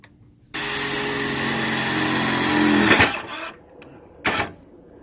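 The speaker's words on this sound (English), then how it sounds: "Okay, so we're drilling out all four of the holes here." A power drill bores holes in a Jeep Cherokee XJ body for a snorkel install: a steady high-pitched whine for about two and a half seconds, then a brief whirring burst afterward.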